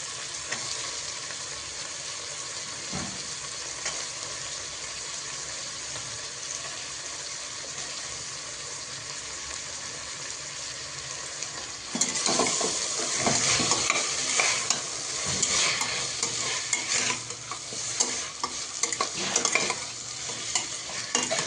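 Vegetables for a restaurant-style veg biryani are stir-fried in a pan, sending out a steady sizzle with a constant scraping stir. It turns louder and busier partway through, with quick clattering strokes.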